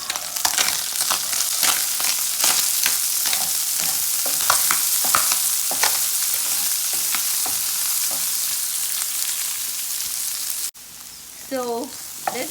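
Garlic, green onions and pepper frying in a pan and stirred, a loud continuous sizzle broken by repeated scraping and clattering strokes of the spoon, close up; the sizzle drops away near the end as a brief voice cuts in.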